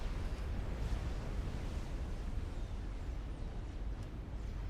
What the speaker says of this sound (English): Game engine's having trouble rendering all of the explosions.